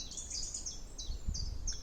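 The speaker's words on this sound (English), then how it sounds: "hear the birds singing" Birds sing in a woodland glade, several thin high chirps and short whistled phrases repeating over a low outdoor rumble, fairly faint and at a distance, with no voices.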